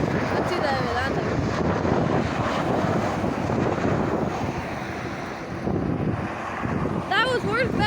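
An Air Explorer Boeing 737-800 landing at Dublin Airport, heard as a loud, steady broadband roar with heavy wind buffeting on the microphone throughout, and brief bird chirps near the end.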